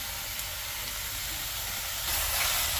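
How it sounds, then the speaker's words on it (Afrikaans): Meat dropped into a hot pot on an AMC cooker set to the lowest heat for browning, giving a close, steady broadband hiss of sizzling that swells slightly louder near the end, with no voices. "Dan sit ons vleis binne in die pot"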